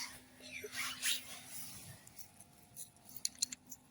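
A few sharp, light clinks of poker chips cluster near the end, with soft murmuring voices and faint rustling underneath, in an abandoned cave.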